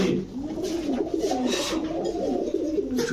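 Pakistani Teddy pigeons kept for sale coo in low, throaty, repeated rolling calls, close by and continuous over a faint background murmur.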